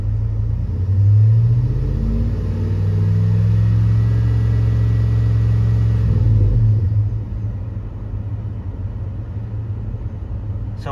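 A Chevrolet Tahoe engine runs loud and steady, swelling into a sustained rev for several seconds before settling back to a lower idle-like drone.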